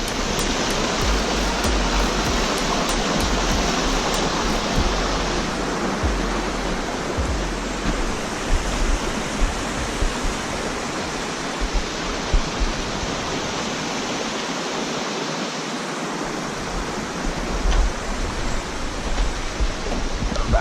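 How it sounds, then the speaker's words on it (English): Waterfall on a White Mountain river at Mount Moosilauke, New Hampshire, roaring as a dense, steady broadband rush close by for the whole stretch, with no voices. "Just grabbed an ASMR shot for the White Mountain River series at this particular waterfall right here"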